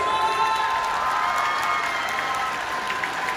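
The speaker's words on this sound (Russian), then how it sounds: "еще раз прими эти аплодисменты," Concert hall audience at a televised song awards show applauding a singer, dense sustained clapping with cheers mixed in, steady and fairly loud throughout.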